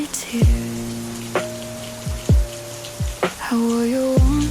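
Steady rain patters on a glass pane beneath a mellow lofi track with deep plucked bass notes and sustained tones.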